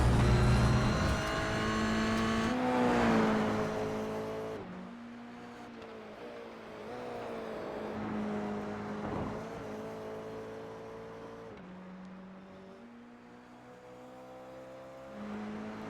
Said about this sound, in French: Mirino ici avec ses couleurs Ferrari dans sa petite Toyota GR 86, désolé, numéro 72